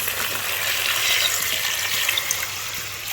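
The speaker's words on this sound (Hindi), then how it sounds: "अब हम ये करेंगे कि इसमें कम से कम 3 गिलास मैं पानी डालूँगी" Water pours steadily into a pot of chicken nihari, a continuous splashing gush with no break, fairly loud and close, with no voices over it.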